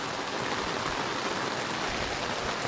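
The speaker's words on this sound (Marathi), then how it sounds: "भरपूर पाऊस पडतो, जबरदस्त पाऊस पडतो" Heavy rain pouring in the Konkan hills near a village, a dense, steady, even hiss of downpour all around with no pause and no voices.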